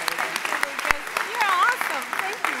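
Audience applause at a school winter concert, a brief burst of clapping from the crowd heard beneath excited voices and cheering.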